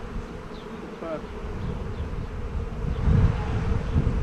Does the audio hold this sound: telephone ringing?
no